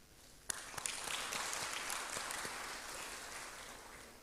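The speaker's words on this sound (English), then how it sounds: "This one now deserves more claps" Audience applause at a university event, faint and distant, starting abruptly with a few sharp claps and then settling into a soft, even patter that slowly tapers.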